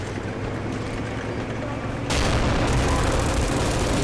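Machine gun fire in the sandbox game Garry's Mod, a dense roar of automatic shots that suddenly jumps louder partway through and keeps going steadily to the end.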